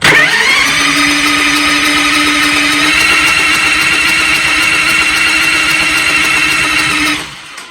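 A car engine turns over steadily on a short press of the starter button, a loud continuous whirring drone lasting about seven seconds before it cuts off abruptly.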